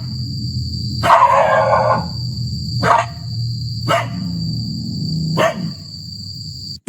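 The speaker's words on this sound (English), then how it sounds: "The dog growls and barks aggressively at something Yama can't see." A dog barks in four loud, separate bursts, the first longer and rougher, over a low steady rumble and a constant high electronic whine.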